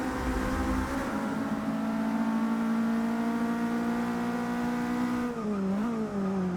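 Volvo race car in Forza Motorsport 6 at Long Beach, its engine droning loud and steady at high revs, then dipping and rising again as it shifts or brakes.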